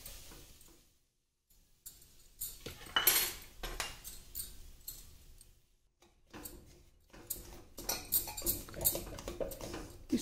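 One bowl of semolina is dry-roasted and stirred in a pan, giving faint, irregular bursts of scraping and light metallic clinks separated by short quiet gaps.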